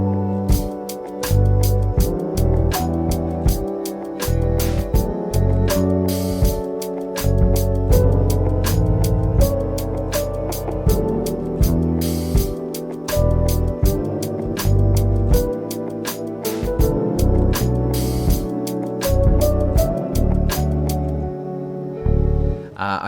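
A steady lo-fi beat plays throughout, with thumping bass notes, crisp repeating drum hits and mellow chords in a relaxed, looping groove.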